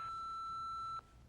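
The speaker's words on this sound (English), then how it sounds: "Do your thing when you hear the beep." A telephone answering machine gives a single steady electronic beep lasting about a second, clean and fairly quiet, before cutting off into low room hiss.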